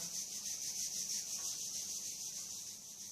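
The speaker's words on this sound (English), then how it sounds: "I want you to rub your hands together." Palms rubbing briskly together at the start of a meditation and yoga session, a soft continuous swishing friction heard close and quietly, with no talk.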